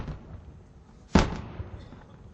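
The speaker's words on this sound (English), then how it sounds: "Artillery will continue to neutralize enemy positions in depth." A single heavy artillery round fires during a Pakistan Army exercise, one sudden loud boom with a decaying rumbling tail, heard against a low background hum and no talk.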